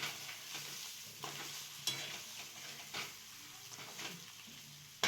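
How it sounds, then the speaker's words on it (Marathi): Chana dal is fried and stirred in a pan, sizzling softly and steadily while a spoon or spatula scrapes the pan in repeated strokes, with several sharper clinks; no one speaks. "हे पण परतून घ्या आपण"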